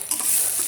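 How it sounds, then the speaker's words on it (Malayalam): Mustard seeds, chilli, urad dal and curry leaves frying in coconut oil for banana stem thoran, a brief, even close-up sizzle with a soft hiss and no voices. "വെളിച്ചെണ്ണയിൽ കടുകിട്ടിട്ടുണ്ട്, മുളകിട്ടിട്ടുണ്ട്, കുറച്ച് പിന്നെ നമ്മൾ ഉഴുന്ന പരിപ്പ്, കറിവേപ്പില ഇത്രയിട്ടിട്ടുണ്ട്."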